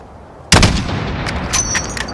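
A single sharp sniper rifle shot cracks out in Call of Duty Modern Warfare (2019), a loud sudden blast followed by a lingering rumbling echo and faint ambient tones, with no talking.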